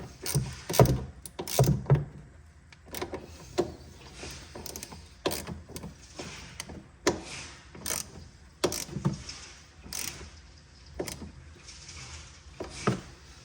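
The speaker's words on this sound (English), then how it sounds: "I'm going to make sure the top nut's nice and snug" A ratchet wrench tightens the top nut on a 2005–2011 Audi A6 Quattro suspension, with repeated close clicking bursts in uneven rhythm separated by short pauses.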